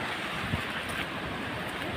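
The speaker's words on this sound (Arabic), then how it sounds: "في شويه موج هناك استنى اما اوريهم لكم." Gentle sea waves wash steadily onto a beach in the Maldives at sunrise, a soft continuous surf hiss mixed with light wind and no voices.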